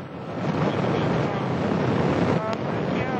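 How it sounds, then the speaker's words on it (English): Soyuz rocket engines roaring at ignition and liftoff during the June 2010 launch, a broad, loud, continuous rumble like heavy wind, steady across the whole stretch, with a voice faintly present. "Liftoff of the Soyuz rocket."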